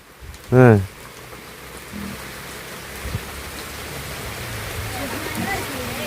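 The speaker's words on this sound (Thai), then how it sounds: "โอ้ฝนตกล่ะ" Steady rain hisses down in an even, continuous wash outdoors, with a brief human voice near the start and low thuds of activity underneath.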